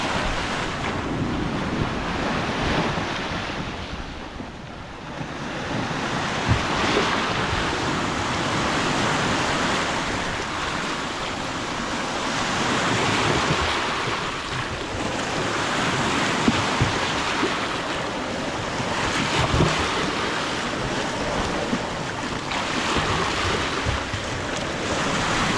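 Sea waves pounding a shore with a concrete edge during Typhoon Karina, a rolling surf roar swelling and fading every few seconds under heavy wind buffeting on the microphone.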